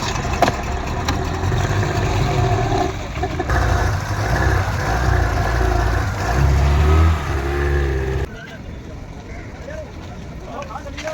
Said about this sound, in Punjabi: ਆਇਆ ਟਰੈਕਟਰ